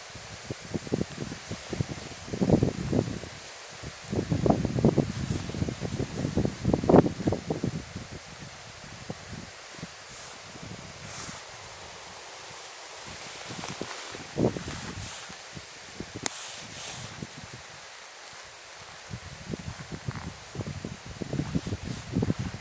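Strong wind sweeping through a forest near a village, with gusts that swell and fade into rustling leaves and microphone buffeting, loud at times and quieter in the lulls between.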